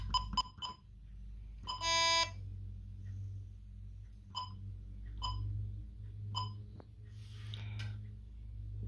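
A Bosch GV4 security alarm system sounds after a zone is tripped, giving short sharp electronic beeps in an irregular series with one longer harmonic burst, heard close up over a low steady hum with no talking.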